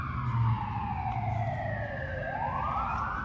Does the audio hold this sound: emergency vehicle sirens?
yes